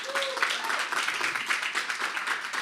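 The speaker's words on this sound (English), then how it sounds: "Let's give him a round of applause." An audience at a speaker series event claps steadily, a continuous crackle of many hands at moderate level from start to finish.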